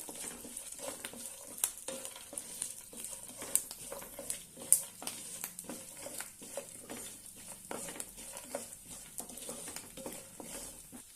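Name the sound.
sautéing in oil for South Indian lemon rice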